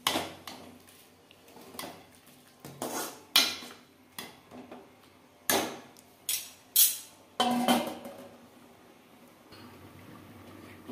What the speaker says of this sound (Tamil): இப்போ நம்ம கிரேவியை ஒரு கிளறி விட்டுக்கிடலாம்.